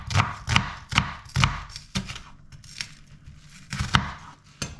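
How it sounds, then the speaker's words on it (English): Knife chopping and dicing an old onion on a cutting board, a rapid series of sharp, close thuds in irregular bursts with short pauses, no talking. "Chopping an onion,"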